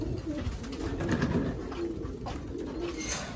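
Pigeons in a loft full of birds for sale coo softly and repeatedly at close range, with low throaty calls over a quiet, rustling background and no talk.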